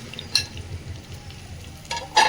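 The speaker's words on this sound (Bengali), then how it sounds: "পেঁয়াজটাও ভেজে নেব" Onion frying in ghee in a pan, a soft steady sizzle close by with a few short metallic clinks and scrapes of a utensil, no voices.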